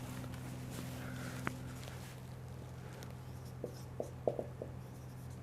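A name being written on a board during a percentage lesson, a few soft taps and scratchy strokes over a steady electrical hum, with a short burst of quick marks toward the end.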